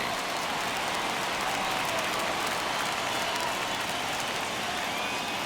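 A baseball stadium crowd at a Blue Jays vs. Astros playoff game rises to a full count, a loud, continuous roar of cheering and clapping that fills the whole stretch without break.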